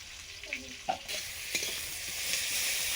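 Food frying and being stirred in a pan at home, a steady sizzle with a few scraping stirs and clinks over the hiss, close and fairly loud.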